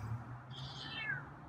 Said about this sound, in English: Okay, there's a meow.